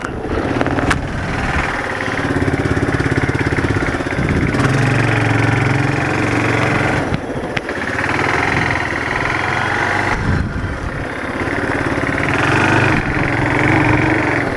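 A Kawasaki KLF300 ATV, its backfiring problem solved, runs steadily close by with a loud, buzzy single-cylinder drone that rises and falls slightly as the throttle changes, heard alone without talk.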